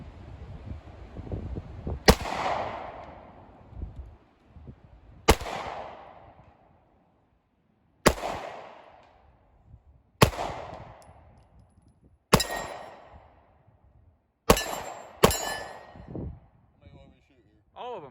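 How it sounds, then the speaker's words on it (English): A Glock-clone pistol built on a Combat Armory frame fires seven sharp, loud shots with irregular gaps between them, each crack ringing out and decaying briefly. "We're gonna let him go ahead and just take some shots."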